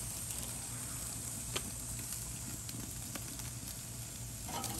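A sous vide chuck roast sears in a hot pan, giving a steady, close sizzle with a few sharp pops and crackles scattered throughout.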